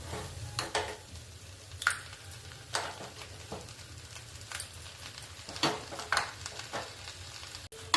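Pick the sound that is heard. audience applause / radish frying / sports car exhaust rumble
radish frying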